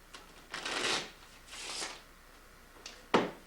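A deck of playing cards is shuffled in a magic trick in several quick riffling bursts. A sharp snap of cards comes near the end, close and clear, with no talking.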